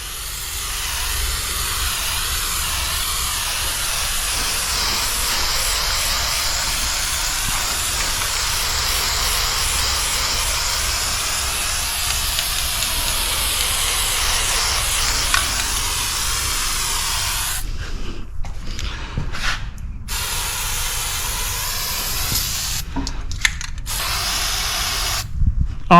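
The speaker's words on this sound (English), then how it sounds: "Spray this down." An aerosol spray can hisses in a long, continuous close blast while coating parts of a John Deere X758 riding mower being readied for winter, with a few brief clicks near the end.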